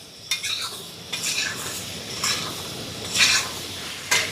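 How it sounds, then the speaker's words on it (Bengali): Raw mango pieces stirred in oil for pickle at medium heat, a spatula scraping the pan in several distinct bursts over a soft sizzle, close and clear with no talk. "আর 5-7 মিনিট মতন এভাবেই নেড়েচেড়ে একটু ভেজে নিতে হবে"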